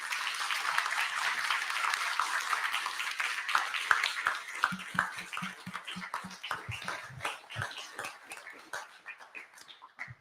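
A room of conference attendees applauds a panel, a dense wash of clapping that gradually thins into scattered individual claps as it fades out.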